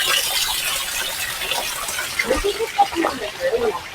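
Water flowing in a garden in Quezon City, a continuous bright hiss with soft splashing and trickling accents, along with a few faint murmurs toward the end.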